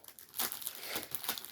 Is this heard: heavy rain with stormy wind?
no